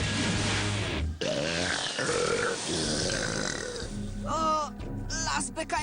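Loud, drawn-out cartoon burps from a forest of trees, deep gurgling belches in repeated bursts mixed with grunting voices.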